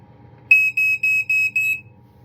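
A Black & Decker SMK9 smoke alarm test horn sounds a piercing, high-pitched beep in five quick pulses, then falls silent over a low background hum.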